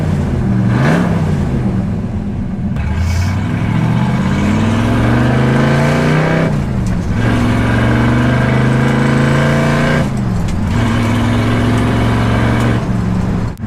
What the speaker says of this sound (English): You can hear the exhaust straight out the side slightly behind you, and that incredible 289 cubic inch V8